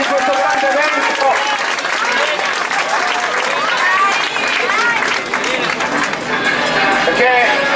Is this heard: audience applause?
yes